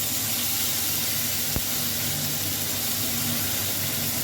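Ground spice paste for a Bengali jackfruit and prawn curry hits hot oil in a pan over a low flame, giving a steady, loud hissing sizzle with one small click partway through and no talking.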